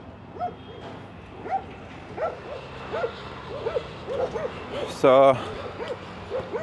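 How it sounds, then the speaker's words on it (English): Dogs bark repeatedly on a street in Tbilisi, Georgia, in a series of evenly spaced yaps at moderate distance, with a sharper, louder burst near the end and someone speaking briefly. "dogs are barking"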